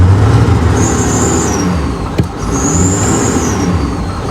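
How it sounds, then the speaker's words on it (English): A 2013 Ford F-series truck engine idling loud and close, running rough with a boost leak, with a steady low drone, a brief hiss-like whine swelling twice and a short mid-clip knock. "Sounds like a boost leak under there"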